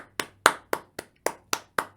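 Seven sharp hand claps in a steady, evenly spaced rhythm, close and crisp, each with a quick decay, in a small room with a faint low hum underneath.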